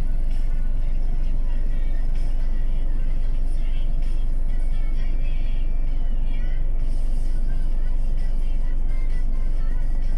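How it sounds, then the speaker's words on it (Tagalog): Heavy city traffic packed with cars, buses and trucks on both sides of the road: a continuous close engine drone and tire hiss with occasional higher squeals, and voices faintly mixed in. "Grabing traffic, kabilaan"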